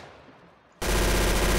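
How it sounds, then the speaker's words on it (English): Machine gun in the Roblox Arsenal shooter game opening up abruptly after a near-silent moment, then a dense, loud, continuous rattle of rapid automatic fire. "I got the machine gun."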